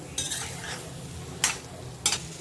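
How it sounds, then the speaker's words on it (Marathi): Paneer tikka masala stirred in a pan, three separate scraping strokes of a spoon over a low sizzle, close and without speech. "सर्व पनीर टाकलं आहे हे सर्व मिक्स करून घ्यायचं आहे चांगलं"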